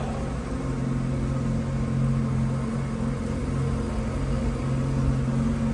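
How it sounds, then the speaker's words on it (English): The exhaust of a 1997 Mazda RX-7 FD RS-R idles steadily inside a warehouse. It gives a loud, continuous, even rumble with a low hum, close to the tailpipe, with no revving and no voices. "There's the exhaust again."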